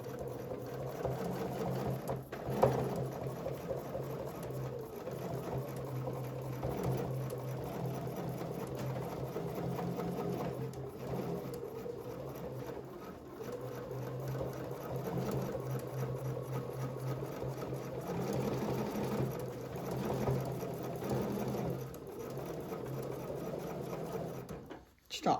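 A domestic sewing machine runs in long steady stretches while quilting a quilt, its motor whirring and needle chattering with brief slowdowns and stops.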